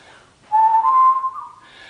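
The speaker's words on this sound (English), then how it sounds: "this is what I'm doing when I'm doing this whistling." A single warbling whistle made with the tongue, close and clear, wavering rapidly in pitch for about a second before trailing off, with no other sound around it.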